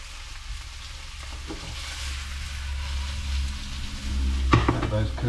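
Meatballs fry in a pan with a low, steady sizzle. A few clatters sound near the end as they are moved about, and a voice talks faintly underneath.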